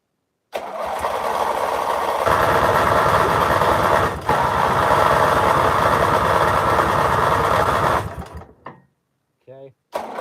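An engine starts, then runs loud and steady at idle for several seconds, its roar shifting slightly partway through before cutting off abruptly, followed by a few brief clunks.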